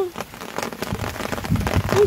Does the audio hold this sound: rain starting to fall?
yes